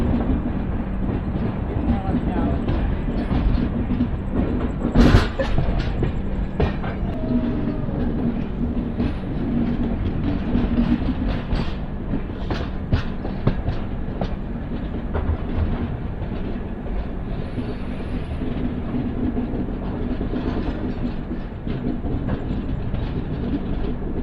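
The Simhapuri Express, running from Secunderabad to Gudur, rolls along steadily with continuous rumble and rhythmic clickety-clack of wheels over rail joints, heard from inside the carriage, with a sharp clank near the start.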